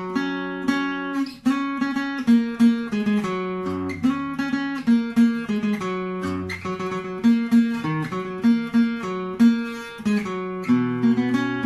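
Acoustic guitar picking a song's riff, a bright, rhythmic run of plucked notes with a steady bouncy pulse, played alone and close for over ten seconds.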